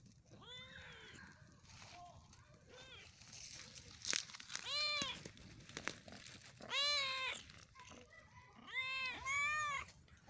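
Several drawn-out cat meows from a hungry cat waiting for grilled fish, close and fairly loud, spaced across the clip with soft rustling and background noise between them.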